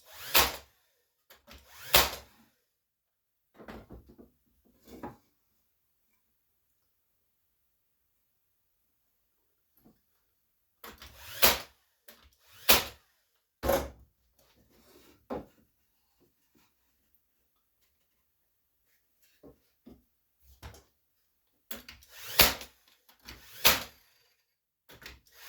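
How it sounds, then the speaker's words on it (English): A brad nailer tacking pieces of a wooden drilling jig together: sharp, close pops in small clusters of two or three, separated by short pauses and a long quiet stretch, fairly soft overall. "I'm just going to tack it together. My handy brad nailer."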